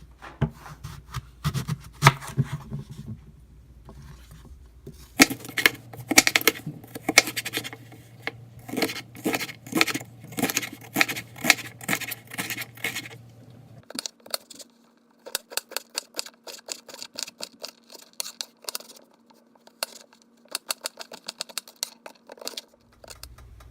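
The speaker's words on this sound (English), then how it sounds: "Cut the mangoes into small pieces with skin on." Firm, sour mangoes with skin on being cut into small pieces with a knife, giving repeated close, crisp chopping and scraping strokes in irregular bursts with brief pauses.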